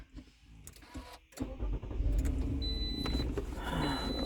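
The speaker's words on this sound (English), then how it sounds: "So let me turn on the engine." A car engine cranked and started nearby, with a few clicks and shuffles before the starter catches, then a steady idle rumble settling in, without talk.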